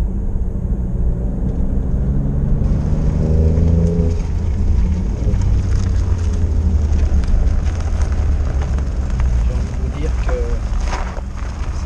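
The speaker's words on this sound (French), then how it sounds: "Elle passe pas inaperçue, hein, notre Stelvio Quadrifoglio, déjà par sa couleur mais aussi par sa sonorité" A 2024 Alfa Romeo Stelvio Quadrifoglio SUV's engine runs with a deep, loud, continuous rumble that swells and settles, with someone talking over it.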